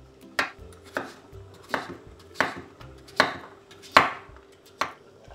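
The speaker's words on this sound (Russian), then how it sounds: "Тем временем я порежу одну картофелину." Knife chopping a potato on a cutting board in a home kitchen while pumpkin soup cooks, seven distinct sharp chops at an uneven, unhurried pace, close and clear with no talking.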